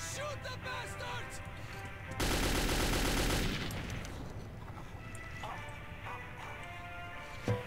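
Gunfire in the video game Metro 2033: a loud, sustained burst of rapid shots rips through the middle, with lighter crackling and clatter before and after.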